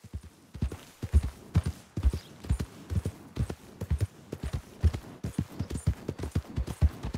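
Horse hooves clip-clopping in Red Dead Redemption 2, a brisk and close rhythmic clatter of steady hoofbeats that carries through the whole stretch.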